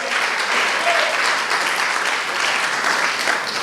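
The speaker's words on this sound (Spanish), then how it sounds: "Si le va a dar ese aplauso, déselo fuerte" A church congregation claps loudly and steadily during a sermon, a dense, even burst of applause filling the room throughout, with no speech over it.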